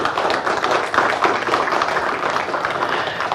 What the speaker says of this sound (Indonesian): Sebelumnya aplaus dulu.